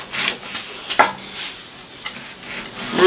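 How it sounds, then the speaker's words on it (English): Onion being chopped into small cubes with a knife on a board outdoors in a village kitchen: a series of close, irregular scraping and tapping knife strokes, moderately loud, with no talk. "So I'm chopping my onions into small cubes."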